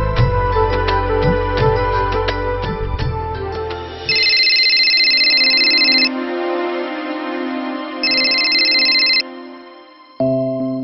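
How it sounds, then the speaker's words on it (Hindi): An outgoing telephone call rings back in two repeated electronic tones with a pause between, heard clearly after a burst of background music fades. "लेकिन महेश मैं एक बार बाबा को फोन करके पूछ लेती हूँ।"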